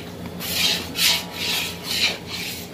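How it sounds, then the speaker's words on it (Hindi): Moong dal being lightly roasted and stirred in a pan for halwa, with khoya mixed in, gives a steady scraping rasp that swells in about five rhythmic strokes, close and alone. "हल्का सा भून लेना है।"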